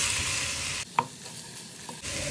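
Veal sizzling in a hot pan as it caramelizes, a steady frying hiss broken by a short gap with a couple of faint clicks before the sizzle resumes.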